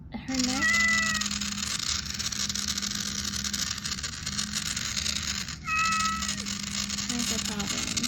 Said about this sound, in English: the voice command still meows